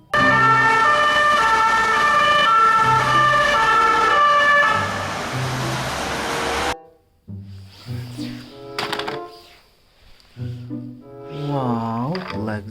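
A toy police car siren wails loudly and steadily for several seconds, then cuts to short intermittent electronic tones and sweeping siren bursts.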